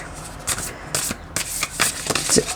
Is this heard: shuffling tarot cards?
yes